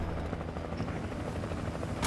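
A helicopter hovers nearby in Alan Wake, a steady rhythmic thumping of rotor blades with engine drone, moderately loud, with a sharp sound at the very end.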